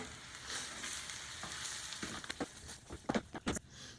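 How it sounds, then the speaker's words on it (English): Italian sausage sizzling in a pan as tomato spaghetti sauce is poured in, a soft steady fry broken by several sharp spattering bursts toward the end, with no talk. "Now I'm just going to pour in the tomato sauce, the spaghetti sauce, I should say."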